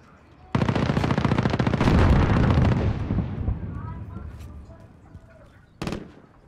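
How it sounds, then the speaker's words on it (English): Call of Duty Warzone battle royale firefight: a dense, rapid burst of machine-gun fire begins abruptly and rattles for several seconds, then tapers into scattered shots and faint distant echoes before one last short burst near the end. "There's so much gunfire happening right here"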